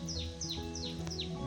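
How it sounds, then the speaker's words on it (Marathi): Birds call in trees near a village, a repeated series of four clear, descending chirps at an even pace, faint and somewhat distant over a soft background hum. "मस्त इकडची पक्ष्यांचा पण आवाज येते झाडात ना."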